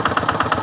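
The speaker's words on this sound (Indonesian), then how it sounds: "Saya akan menyimak mesin traktor habis dicuci akan naik pematang." A crank-started rice field tractor engine, freshly washed, runs steadily with a close, loud, regular chugging pulse.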